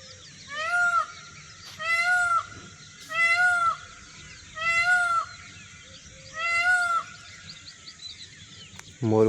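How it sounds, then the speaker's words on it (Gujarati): Peacock calling at about 6:30 in the morning: five loud, drawn-out honking cries repeat at roughly even intervals over quiet background ambience, with no talk. "મોર બોલ્યો ગાઈસ"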